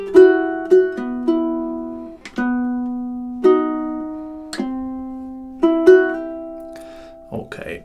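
Ukulele playing measures 7 and 8 of a song, plucked notes in a lilting rhythmic figure with sustained ringing tones, close and alone.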